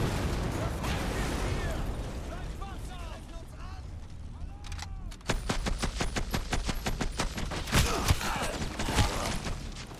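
Rifle volley in the Commandos Origins video game: shouted commands in German, then a rapid cluster of sharp gunshots crackling over continuous game ambience, with further shots trailing off.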